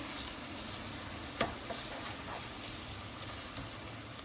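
Minced meat with onions and garlic fries in a pan, giving a steady, dense sizzle throughout, with one brief knock of a utensil partway through.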